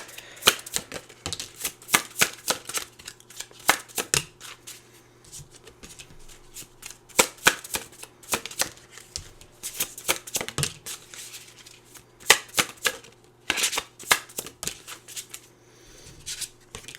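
Tarot cards being shuffled by hand, heard as close, crisp bursts of riffling and snapping in irregular clusters with short pauses between, with no talking.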